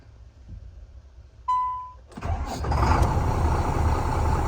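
An XCMG heavy truck diesel engine starts after the ignition is switched on: a steady electronic beep tone, a brief cranking whir, then the engine catches and settles into a loud, continuous idle rumble.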